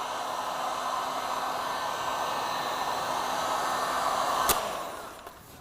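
Steady hot airflow from a heat gun warming the edge of a metallic purple gloss vinyl wrap film, a continuous blowing hiss that fades near the end, with a sharp click at the close.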